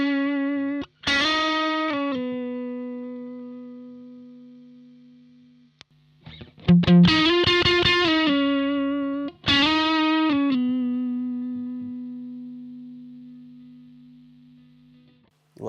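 Distorted electric guitar through a Soldano SLO 100 amp or a Kemper Profiler rings out in held notes and short bends that sustain and slowly decay between pauses, played alone and up close.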